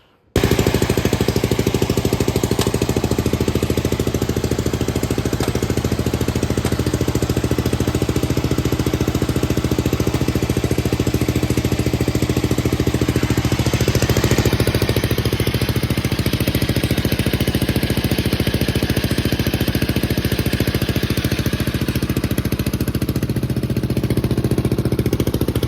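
Racing lawn mower engine starting up and then running hard and loud at a steady, rough, throbbing pitch for the whole stretch, very near, with no voices over it.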